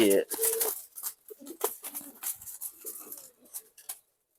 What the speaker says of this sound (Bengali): এই কবুতরটা মাশাআল্লাহ খুবই সুন্দর পুরানো একটা কালাবাগা কবুতর